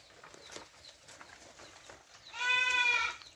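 A goat at a farm feedlot gives one short, fairly close, wavering bleat after a quiet stretch of faint background noise.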